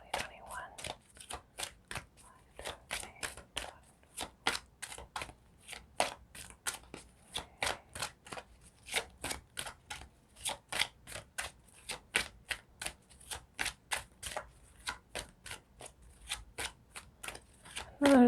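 Tarot cards are shuffled over and over in quick, crisp bursts of riffling clicks for nearly twenty seconds. The sound is close and fairly soft, with a faint voice murmuring at times.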